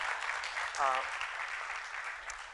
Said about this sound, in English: You can applaud if you want, it's fine.